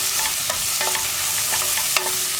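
Sliced onions sizzle steadily in a pan while being stirred with a spatula, with faint scraping clicks over a constant frying hiss, close and without any talking.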